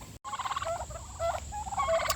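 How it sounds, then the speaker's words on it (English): Several farm-raised turkeys close to harvest gobble and chatter in quick warbling bursts, close by, with short gaps between calls and no talking. "look how big my turkeys are"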